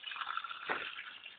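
Water is poured into a cup for a popsicle stick bridge experiment, making a soft, continuous trickling and splashing that swells briefly midway, quiet and close.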